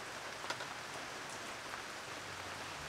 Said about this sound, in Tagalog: Ang lakas ng ulan, grabe.